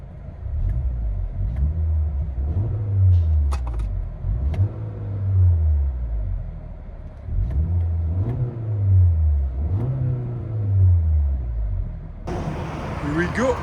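A 2025 Kia Sorento 2.5L engine with Borla ProXS dual exhaust revs repeatedly, heard from inside the cabin, about five rising and falling surges in a steady rhythm, ending with a short hiss.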